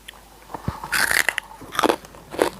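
Crunchy fried pork rinds eaten with Northern Thai young green chili dip are bitten close to the mic, giving several loud, crackling crunches followed by chewing.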